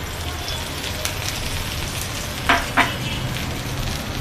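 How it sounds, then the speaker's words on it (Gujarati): Cheese aloo paratha frying in oil on a hot tawa, a steady broad sizzle throughout with two brief louder crackles near the middle, close and alone. "તવો ગરમ થઈ ગયો છે તેમાં આપણે શેકી લેશું આપણે હવે ફરતું તેલ નાખશું"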